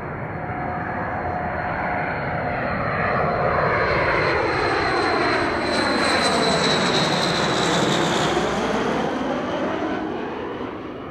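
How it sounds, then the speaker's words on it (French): An airplane passes overhead in a loud, sustained engine roar that swells and shifts in pitch as it flies by, with no voices. "L'avion."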